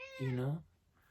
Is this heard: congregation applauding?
no